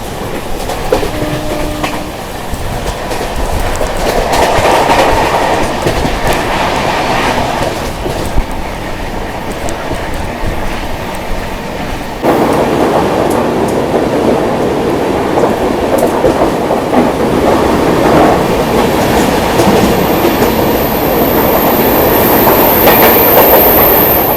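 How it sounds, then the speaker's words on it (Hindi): Mumbai Rajdhani Express rolling through the Kasara Ghat, wheels clattering steadily over the track, a continuous loud rumble with rhythmic clickety-clack and a thin high squeal creeping in near the end, no voices. "जबरदस्त ट्रैक साउंड आ रहा है यहाँ पर।"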